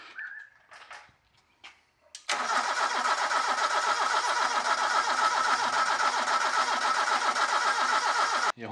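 A rebuilt Toyota 4A-GE car engine cranks briefly after a few soft clicks, then catches and settles into a loud, steady, even-paced idle close by.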